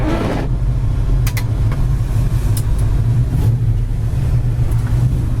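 A 1972 Ford Mustang Mach 1 fitted with headers and dual exhaust idles with a steady, loud low rumble throughout, a few faint clicks rising above the engine drone.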